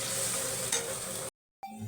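Potatoes frying in a pan with green chili and ginger paste sizzle loudly and continuously, a stir scraping briefly midway, then a short silence before the sizzling resumes more softly.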